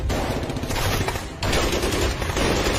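Continuous heavy gunfire from a film battle scene, a loud dense rattle of rapid shots with a brief dip midway before resuming at full intensity.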